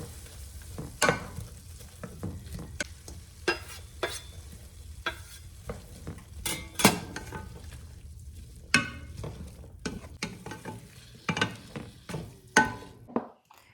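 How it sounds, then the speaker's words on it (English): Chopped onion and pepper hit a hot pan for sloppy joes. A spatula knocks and scrapes the pan in irregular clacks over a soft, steady sizzle, close and fairly quiet, with no talking. "we are going to put our onion and our pepper in our pan"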